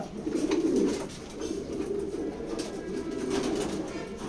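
Male pigeons coo repeatedly at a pigeon loft, a steady series of low rolling calls layered close together with no talk.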